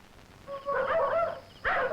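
Dogs give a short run of yelping, whining barks, fairly close, in two bursts within a couple of seconds.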